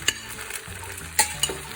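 Green beans sizzle steadily in a hot pan, broken by a few sharp scraping clatters as they are stirred.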